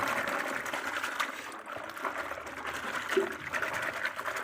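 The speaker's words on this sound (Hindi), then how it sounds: "इसको अच्छी तरह करें, हिलाएं जोर से, अच्छी तरह मिक्स कर लें। पानी के अंदर सरफ़ रहे ना।" Homemade washing powder stirred vigorously into water, a steady churning, sloshing wash of liquid that continues close by for the whole stretch without pause.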